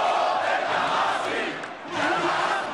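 A large crowd of demonstrators in Cairo's Tahrir Square roars in a warm welcome for Egypt's new prime minister, a dense, continuous wall of shouting and cheering with a brief dip near the end before swelling again.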